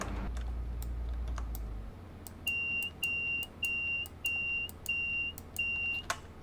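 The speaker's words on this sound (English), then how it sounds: "There we go, six on the buzzer." Train Simulator 2022 game with a Class 185 TransPennine Express unit: a run of six short, evenly spaced electronic buzzer signals rings out clearly over a low background hum, with no talking.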